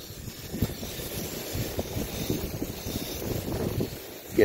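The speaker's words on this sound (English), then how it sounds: "Look how windy it is. It's bad." Gusty wind buffets the microphone with low, rumbling bursts that rise and fall throughout, with no voices present.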